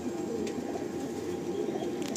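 A pair of white-headed pigeons coos in a low, continuous rumbling purr, close and steady with no talk.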